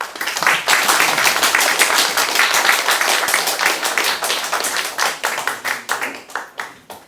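Loud, close audience clapping for a lecturer at a leadership academy talk, rapid sharp claps that stay dense before thinning into scattered slower claps at the end.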